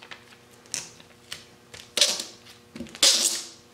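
Packing tape for a single-sided mold being pulled off the roll and pressed down, coming as a few short ripping bursts that grow louder and longer, with quiet gaps between them.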